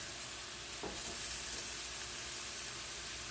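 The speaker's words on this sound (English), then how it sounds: "I'm letting it cook with the oil from the salmon" Broccoli, cauliflower, carrots and green beans frying in oil left from cooked salmon, a soft, steady sizzle with a faint stirring scrape, close and quiet, no talking.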